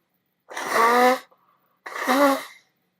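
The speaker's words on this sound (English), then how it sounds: "No, I was blowing my nose." Two short, harsh nasal blasts separated by a brief pause, close up and fairly loud, like someone blowing their nose.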